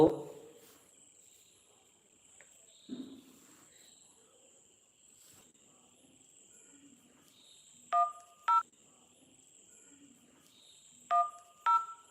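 Telephone dialing tones on a phone, two pairs of short DTMF beeps ringing out around eight and eleven seconds over a quiet background, with faint murmurs early on.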